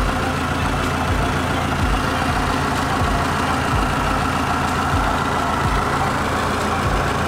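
A 2009 Toyota Venza with a 2.7-litre engine idling in place, a steady, even low rumble with faint regular pulsing, recorded close and loud with no talking over it.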